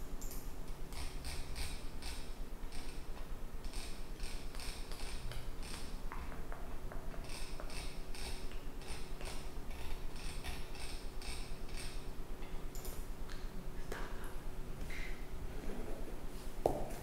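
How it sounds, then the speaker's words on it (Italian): Office printer running a document print job for a gym reception, a steady mechanical whirring with creaks and repeated ratcheting feed clicks lasting throughout, close and fairly quiet with no talk. "adesso mando a stampare il documento e poi glielo do"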